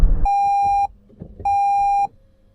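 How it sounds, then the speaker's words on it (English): Two loud, steady electronic beeps from a Toyota Land Cruiser's safety warning system, each lasting about half a second with a short gap between, sounding clearly over faint cabin background noise. "all the safety features that we couldn't work out at the beginning, all the buzzers and the beeps"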